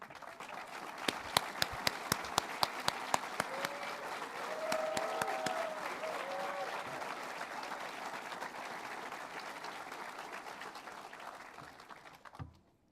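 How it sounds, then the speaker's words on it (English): A crowd at a Warrant Officer Training School graduation gives a round of applause for the cadre and staff. Sharp claps stand out early in a sustained, full ovation, and a voice briefly rises partway through before the clapping fades out at the end. "We'd like to recognize you with a round of applause."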